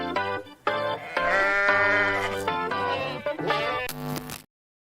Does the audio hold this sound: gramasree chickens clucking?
no